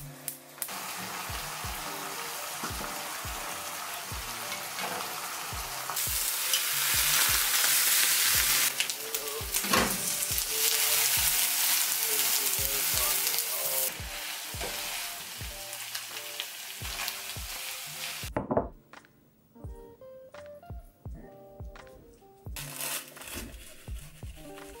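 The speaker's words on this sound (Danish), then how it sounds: "Så jeg skal egentlig bare proppe peberfrugt og champignonerne på den anden pande." Bell peppers and mushrooms fry in a pan with a loud, steady sizzle that rises and falls. A second pan of noodles and beans sits nearby, and clicking, rattling handling sounds run through the frying before it drops away near the end.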